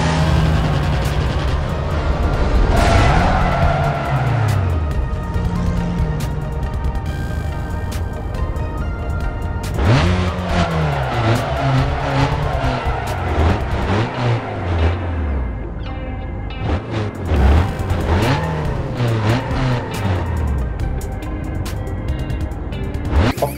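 A car drives off the map in Need for Speed: Most Wanted, its engine droning loudly with repeated rising and falling revs as gears shift, plus scattered knocks and scrapes.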